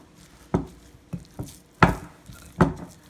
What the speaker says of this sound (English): And I'm just going to give this a good mix.